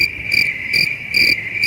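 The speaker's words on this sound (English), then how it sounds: "they got crickets" Crickets chirp in steady pulsing bursts over a constant high insect trill, clear and fairly loud with no voices.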